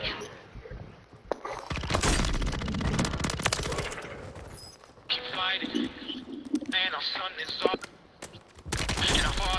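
Bursts of automatic gunfire and explosive impacts in a Call of Duty match, loud and dense at first, then broken by pauses, with voices talking over parts of the fighting.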